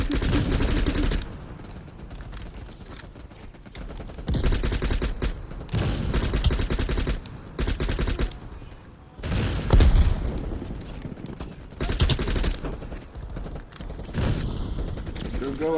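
Anti-aircraft gun fire in the Call of Duty Black Ops Cold War campaign, loud bursts of rapid automatic shots coming in repeated volleys with short gaps, voices talking between them.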